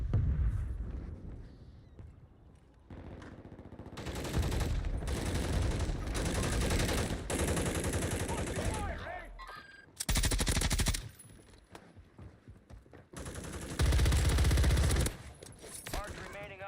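Gunfire in the Call of Duty Warzone game, loud bursts of automatic fire and blasts coming in waves with quieter gaps, mixed with in-game voices and other battle noise.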